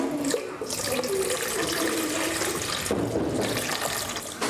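Water pours steadily into a container in a classroom during a lesson on comparing volume, a continuous near splashing rush lasting several seconds with a brief shift midway.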